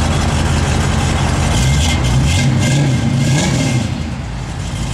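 A 1962 Ford Ranchero's engine runs steadily up close, a deep rumbling idle that swells briefly as if lightly revved before settling back, with no talking.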